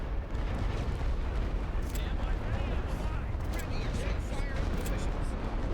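Artillery fire rumbles continuously in the World War I strategy game The Great War: Western Front, a dense, steady barrage of distant booms and blasts with no clear pauses.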